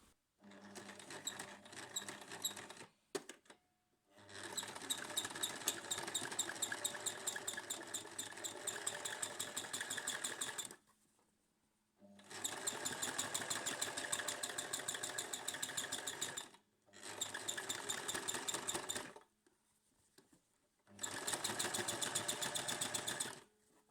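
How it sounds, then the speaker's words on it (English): Sewing machine stitching a tunnel along the edge of a cotton face mask, its rapid mechanical whir coming in four long runs broken by brief stops, close up and alone without speech. "So we need to sew another tunnel."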